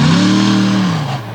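Monster truck engine at a Franklin, Pennsylvania show, hand-painted truck, loud sustained revving with a steady low drone that gradually sags in pitch, close and dominant with no voices.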